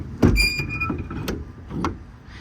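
The compartment latch on a 2023 Mack MD6 service truck is worked by hand, producing a loud metallic clunk and scrape, a short ringing squeal, then a few softer knocks and rattles nearby.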